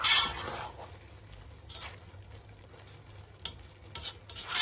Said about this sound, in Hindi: सॉल्ट डाल के इसको मिक्स कर लें, अच्छी तरह मिक्स कर लें।